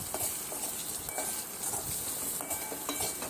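Potatoes with pepper and turmeric sautéing in a pan give a close, even sizzle broken by soft stirring scrapes.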